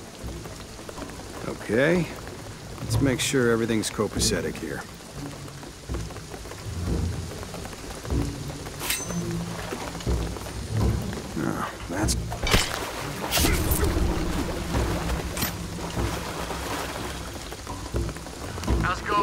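Steady rain with rumbling thunder fills a stormy night scene in the video game Shadow of the Tomb Raider, with sharp cracks and rolling booms, while someone speaks briefly over it.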